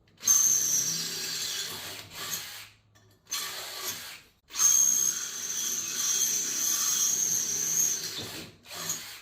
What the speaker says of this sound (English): See if we can drill this out without ripping my hand off.